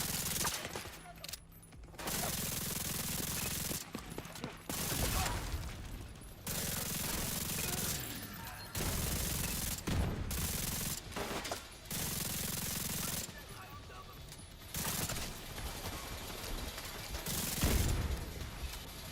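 Bursts of automatic gunfire crackle through a video game firefight, loud and sustained in several long volleys separated by short pauses.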